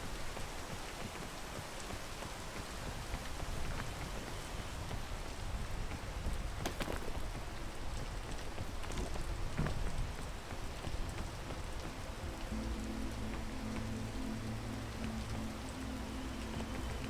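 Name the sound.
rain in the video game PEAK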